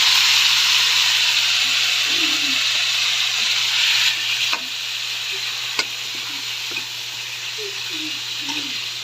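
Pork frying in a pan with aromatics for adobo with saba: a broad, loud sizzle throughout, easing slightly midway, with occasional stirring clinks and soft scrapes.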